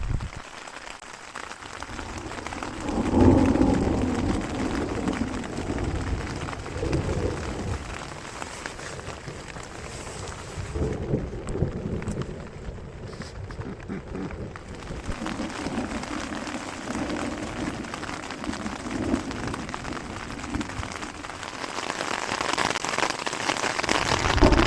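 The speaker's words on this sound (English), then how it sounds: "What a night that was. Thunderstorms" Steady rain falls on a tent while camping in the mountains during a night thunderstorm. It forms a dense, continuous patter that swells and eases slightly, with no distinct thunderclap standing out.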